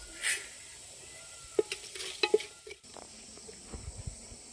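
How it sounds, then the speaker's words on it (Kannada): Mustard seeds, cumin, chana dal and urad dal fry in hot oil over an outdoor village stove, giving faint, scattered crackles and small pops over a quiet background. "ಎಣ್ಣೆ ಕಾದ್ಮೇಲೆ ಸಾಸಿವೆ, ಜೀರಿಗೆ, ಕಡಲೆಬೇಳೆ, ಉದ್ದಿನಬೇಳೆ ಇದೆಲ್ಲ ಎಣ್ಣೆ ಒಳಗೆ ಹಾಕ್ಕೊಂಡು"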